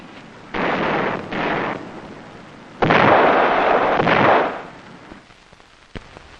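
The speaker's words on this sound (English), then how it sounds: "In return, they opened up with their 20mm cannon." Two short bursts of heavy, booming 20mm automatic cannon fire in the Vietnam War, followed by a longer sustained roaring volley, then a fading rumble and one faint distant thump.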